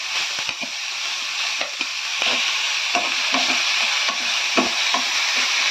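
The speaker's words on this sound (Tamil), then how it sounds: "லைட்டாக வெங்காயத்தை சேர்த்துக்கலாம். சும்மா லேசாக தான் 2 பரட்டுனா போதும்." Sliced onion and carrot sauté in a hot pan for a cutlet recipe, a steady close sizzle broken by soft scraping stirs every second or so.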